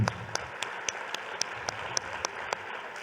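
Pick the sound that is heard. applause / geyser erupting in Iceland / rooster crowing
applause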